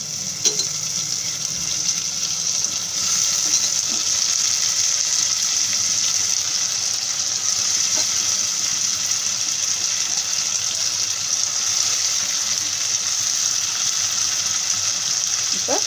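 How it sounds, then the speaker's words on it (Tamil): Tomatoes hit a pan of fried onions and sizzle with a loud, steady hiss that holds throughout, with faint scrapes of stirring and no talk. "இப்போ நம்ம தக்காளி சேர்த்துக்கலாம்"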